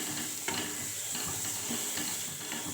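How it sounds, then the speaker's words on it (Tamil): Curry leaves frying in hot oil in a pan, a steady close sizzle broken by soft scraping stirs at a loose rhythm. "பாருங்கள் நல்லா நல்லா ஃப்ரை ஆகட்டும் கருவேப்பிலை கொஞ்சம் போட்டுக்கலாம்"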